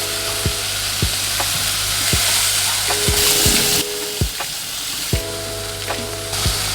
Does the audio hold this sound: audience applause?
no